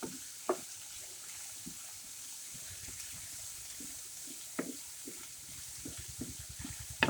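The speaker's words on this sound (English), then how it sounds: "Go ahead and get this all sauteed and looking beautiful. You can see it in the pan." Meatloaf vegetables sauté in a pan with a steady low sizzle, while a utensil stirs and scrapes in scattered knocks and clinks, one sharper clack near the start; fairly quiet and close, with no talking.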